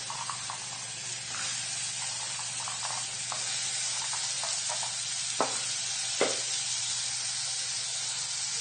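Soaked chickpeas go into a pan with chilli paste and sizzle steadily, a constant frying hiss broken by a few soft clinks and two sharper scrapes of a utensil near the end, with no talking.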